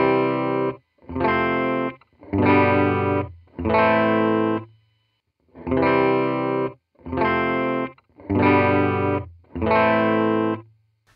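Distorted electric guitar run through an Axe-Fx II processor over a TRS cable, eight loud chord strums, each ringing about a second before stopping, with short silences between them.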